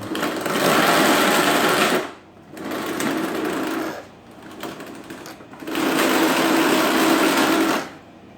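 Electric drive motors of an Ardupilot-controlled robot tank with differential steering whir in three loud sustained bursts, separated by brief quieter pauses, with no talk over them.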